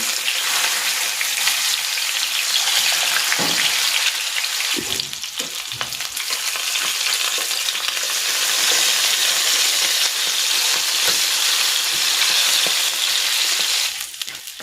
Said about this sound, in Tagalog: Ipiprito ko naman dito itong isda